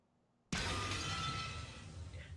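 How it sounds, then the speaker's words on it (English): A sudden loud shatter of breaking glass from the visual novel Umineko When They Cry, erupting after near silence and trailing into a long jangling, crumbling decay. "There was a violent sound of glass breaking"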